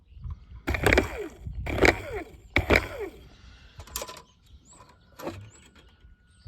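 Motor-driven moonroof mechanism on a 2015 Ford Explorer, damaged by a water leak, running in reverse: three loud grinding, creaking bursts close by, then quieter clicks and a short final whir.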